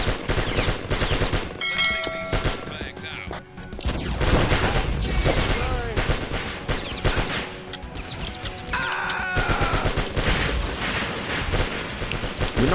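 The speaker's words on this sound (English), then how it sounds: "why do the shotguns sound like that?" Shotguns boom repeatedly in the video game Die Hard Trilogy, with sharp blasts and ringing metallic effects layered over busy game music and noise.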